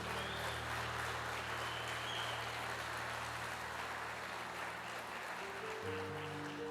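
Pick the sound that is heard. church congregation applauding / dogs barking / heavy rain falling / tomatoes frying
church congregation applauding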